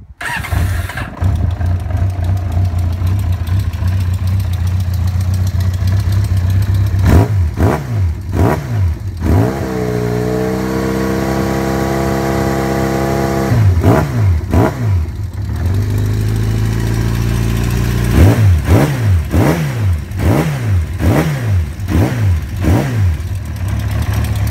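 A carbureted 600cc air-cooled inline-four Yamaha XJ600 Diversion motorcycle with a Delkevic twin exhaust cranks, fires up and idles loudly up close, then is blipped through several sharp rev bursts that rise and fall in repeated clusters.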